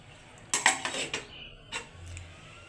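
A pot of rice set down on a stove, a few sharp metallic clanks and scrapes close by in a short burst, then quiet.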